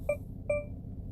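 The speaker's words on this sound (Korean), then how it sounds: "삐 소리 후에 다시 말씀해 주세요." Two short electronic beep tones from a voice assistant in quick succession, clear and close, over a low background hum.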